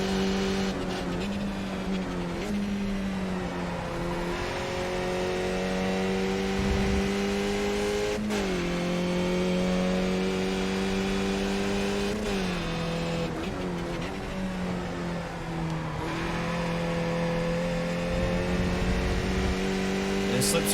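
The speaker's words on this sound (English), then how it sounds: "do not screw up the downshift this time" A Skip Barber race car engine in the iRacing sim drones loudly and steadily, its pitch dipping and climbing through downshifts and throttle blips, with someone talking over it.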